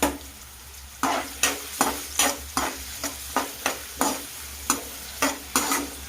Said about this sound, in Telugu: ఆనియన్స్ అయితే బాగా ఫ్రై అయిపోయినాయి